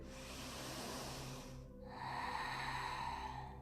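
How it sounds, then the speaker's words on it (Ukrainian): A slow, deep yoga breath, a long airy inhale giving way to a steady exhale, close and fairly quiet with no talking. "І заключний глибокий вдих."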